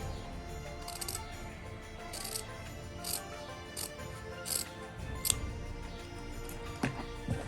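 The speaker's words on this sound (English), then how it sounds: "the pointy of the scissor get into here, and then go ahead and cut like this" Scissors snip through fabric scraps in a string of separate, close, quiet cuts spaced about a second apart, with soft handling noises between them.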